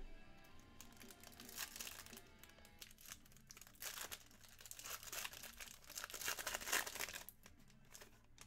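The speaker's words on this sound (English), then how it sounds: "The foil ready to be fractured." Foil trading card packs from a 2020-21 Panini Origins basketball box being torn open, continuous crinkling and ripping of foil at close range, faint and busy throughout.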